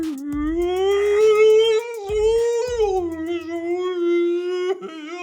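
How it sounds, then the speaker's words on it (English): A long, sliding whale call that wavers in pitch and rises and falls, with low thumps and clicks beneath it. "It's like a whale sound."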